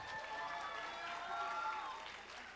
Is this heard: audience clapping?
yes